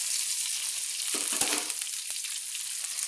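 Brinjal pieces frying in a pan, a soft continuous hiss of oil with a couple of brief stirring scrapes near the middle, fairly quiet and close.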